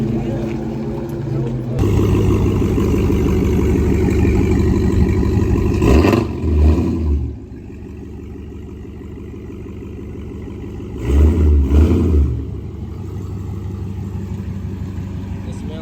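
At a Memorial Day street car cruise, a BMW's engine idles with a steady low rumble, rising twice into short revs amid a busy outdoor crowd.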